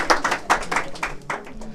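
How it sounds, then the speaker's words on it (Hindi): A classroom of students claps loudly for a pupil at a school prize-giving, with sharp, uneven hand claps coming in quick bursts throughout. "आइए जोरदार ताली इसके लिए बाबू, जोरदार ताली बजाएंगे।"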